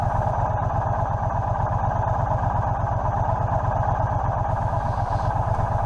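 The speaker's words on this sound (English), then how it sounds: "what I'm riding here, is a Triumph T120 from Hinckley" A Triumph T120 motorcycle from Hinckley being ridden, its engine giving a steady, loud, rhythmic low-pitched thrum under a constant rush of wind, close and continuous throughout.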